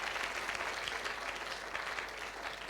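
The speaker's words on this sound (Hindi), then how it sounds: "परमेश्वर की जोरदार ताली बजाइए" A congregation claps loudly for God during a live Hindi Sunday service at Faith Assembly of God Church, a dense, continuous roar of many hands that stays steady throughout, with a faint murmur of voices beneath.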